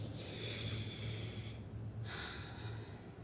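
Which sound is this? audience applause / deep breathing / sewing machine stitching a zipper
deep breathing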